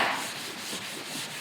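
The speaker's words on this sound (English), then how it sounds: "That's the sound of a turbocharged Scotch-Brite pad." A Scotch-Brite pad is rubbed by hand over the paintwork of a BMW F80 M3, giving a close, steady abrasive scrubbing hiss with slight rhythmic strokes and no talking.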